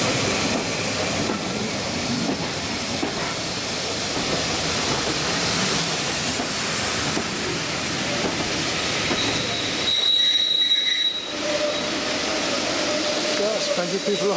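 A heritage passenger train on the West Somerset Railway rolls steadily from Williton, with continuous close carriage rumble and rail noise throughout, a brief high wheel squeal midway, and occasional voices among passengers.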